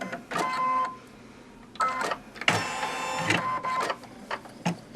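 An embroidery machine stitches a placement line for quilt batting, running in loud, rhythmic whirring bursts with brief pauses between them, close and with no talk.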